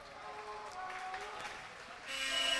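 A crowd at a high school varsity water polo game cheers and applauds for the Loyola Dons, a steady wash of clapping and voices that swells louder toward the end.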